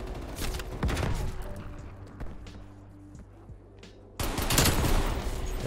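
Call of Duty Cold War multiplayer gunfire, a few loud close shots at the start, a quieter stretch of softer background clatter, then a fresh burst of heavy rapid fire near the end.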